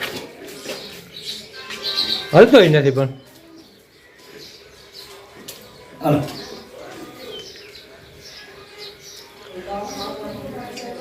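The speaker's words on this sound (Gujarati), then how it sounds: "જો એ પોપટ આવ્યો" A parrot visiting a house to eat peanuts and rice gives a short, sharp call up close, with softer chirps around it, while people talk nearby.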